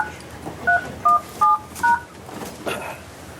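Telephone keypad tones entering an access code on a conference call, four short, evenly spaced beeps of differing pitch against a low background hum, with faint murmuring afterward.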